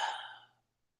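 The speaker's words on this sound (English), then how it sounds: "Take a deep breath." A single deep exhale during a meditation, soft and close, fading out within about half a second into silence.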